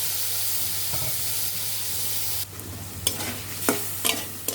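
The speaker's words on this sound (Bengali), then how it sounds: "এখন ভালোভাবে একটু কষিয়ে নিতে হবে।" A steady sizzle of spice paste frying in a pan with a little water, then sharp scraping strokes of a spoon stirring, a few irregular clanks near the end.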